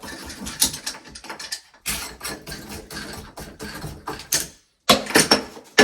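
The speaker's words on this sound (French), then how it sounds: "Je dévisse." Unscrewing during a tiling job: a busy run of close, loud ratcheting clicks and mechanical rattles in short bursts, broken by brief pauses of near silence.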